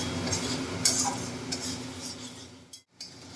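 Chopped green chillies sauté in a pan with a soft continuous sizzle while a utensil stirs and scrapes against the metal. A brief clatter comes near the end.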